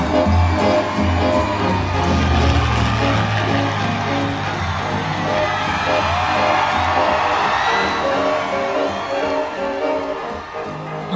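A large crowd cheers and celebrates in Trafalgar Square in an audio drama, a loud continuous wash of whoops, yells and excited shouting with dense overlapping voices throughout.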